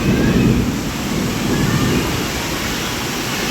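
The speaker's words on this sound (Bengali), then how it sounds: "প্রচুর বৃষ্টি হচ্ছে" A sudden heavy afternoon downpour gives a dense, constant roar of rain, loud and close throughout with no voices.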